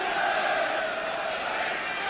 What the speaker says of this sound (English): And the crowd really trying to lift Tottenham here.